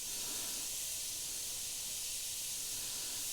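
An Iwata HP.CR3 airbrush spraying paint in fine dots gives a steady, close, airy hiss that holds evenly throughout without pauses.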